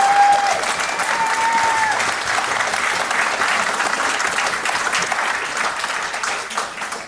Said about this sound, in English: So please give him a big round of applause for that